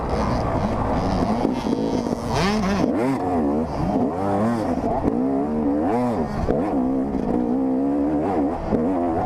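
Dirt bike engine roaring and revving continuously during a woods race, loud and close with rising and falling pitch as the rider shifts and throttles through the trail.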